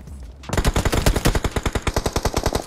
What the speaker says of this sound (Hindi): यहाँ पीछे के साइड से एक पोरा गोली चला रहा है